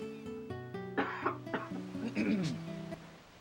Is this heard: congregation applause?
no